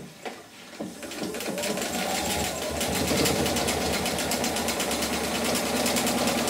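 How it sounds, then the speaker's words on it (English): A sewing machine stitching down the seam line of a quilt-as-you-go quilt, starting with a couple of taps and then running as a fast, steady mechanical whir that stays close and continuous, with no voice. "I'm just sewing down this crease line or the seam line on the quilt"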